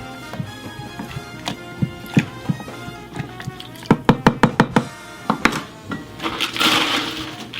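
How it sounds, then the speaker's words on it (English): Mint being muddled for an Asian pear mojito, heard as a run of sharp knocking thumps of a muddler pressing into a glass, irregular at first and then quick and steady, close and fairly loud, without any talking. "And then finish the muddling."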